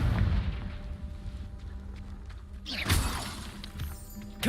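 Fiery spell blasts cast in Hogwarts Legacy, a sharp crackling burst near the start and a bigger booming impact around the three-second mark, with rumbling game ambience between.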